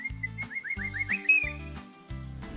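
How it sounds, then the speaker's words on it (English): A cuckoo sings in quick, repeated high chirping notes over a rhythmic, low, music-like backing that starts and stops in pulses. "The cuckoo sings a beautiful song."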